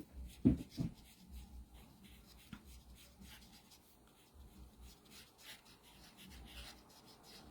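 A coloring tool rubs in short, faint scratchy strokes to add shading to a stamped card image. The strokes are soft and close, and a low room murmur sits underneath.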